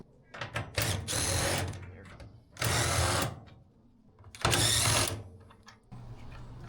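A power tool spins the nuts off the carriage bolts of a wheelbarrow under refurbishment, whirring in three loud, close bursts of about a second each, separated by quieter pauses.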